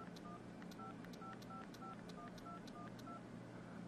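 Keypad tones from entering a phone number on a Motorola Crave phone sound as a quick, even series of about ten short beeps, faint and close, over a steady background hiss.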